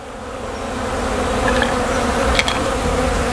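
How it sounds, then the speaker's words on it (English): A huge swarm of bees drones in a loud, continuous buzz that swells slightly over a few seconds, with individual insects passing close now and then. "hopefully we'll see the big bee tornado come in"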